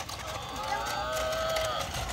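A battery-powered toy cow gives a drawn-out electronic moo, steady and fairly close, over a faint mechanical hum with no talking.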